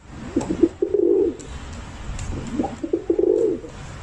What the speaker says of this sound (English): Homing pigeons have traditionally been kept as racing birds by hobbyists.